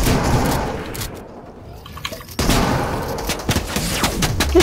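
Rapid gunfire bursts from the video game Fortnite during a box fight, loud and close, with a brief quieter lull midway before dense shots and impacts resume.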